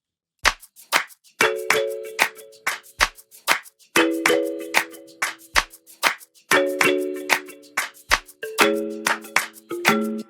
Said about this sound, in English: So I started off with this shaker from Ransom Beats